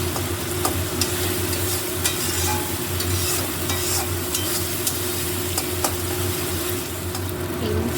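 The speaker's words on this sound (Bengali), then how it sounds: "মশলাটা কষানো হয়ে যাচ্ছে" Spice masala sizzles and fries steadily in a pan for mixed vegetable dal, with potatoes in the mix, a dense continuous crackle with occasional stirring scrapes, close and fairly loud, with no talk.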